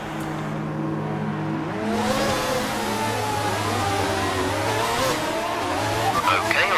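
Formula 1 cars from the F1 2019 video game on the formation lap at the Azerbaijan Grand Prix, engines whining and revving as they weave, with tyre squeals, and a commentator and radio voice talking over them.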